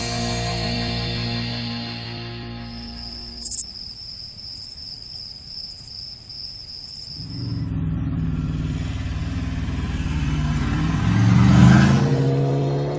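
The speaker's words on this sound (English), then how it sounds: "It's a measurement of how long it takes the bike to accelerate from 60 to 80 miles an hour in 6th gear" A superbike in sixth gear rolls on from 60 to 80 mph, its engine building from a low drone into a loud, rising roar near the end, with a high insect-like whine early on.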